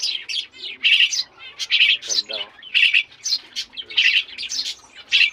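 Three baby Maya sparrow chicks chirp close up in rapid, repeated high bursts of shrill cheeping, with a person speaking briefly among the calls.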